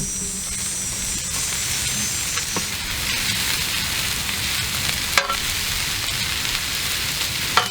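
Leftover brisket beef and onions frying in a pan, a steady close hissing sizzle with a few sharp clicks and scrapes from the pan along the way.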